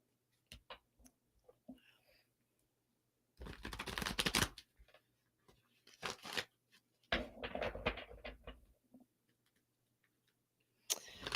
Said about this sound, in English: Shuffling, shuffling.